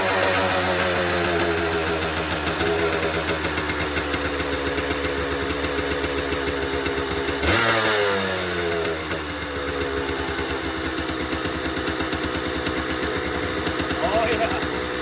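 A 2006 Kawasaki KDX200 dirt bike's two-stroke engine runs after a kick start with a rapid buzzing idle, close and loud, and a brief rev around the middle before settling back to idle.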